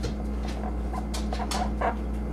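Dog whimpering indoors in a room, soft intermittent whines and yelps over a steady low hum, faint and close, with no talk.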